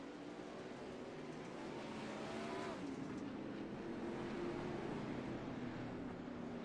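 Race cars circle a dirt oval under a caution flag during a 410 outlaw sprint car race at USA Speedway, a steady, moderately distant engine drone that holds evenly at reduced pace throughout.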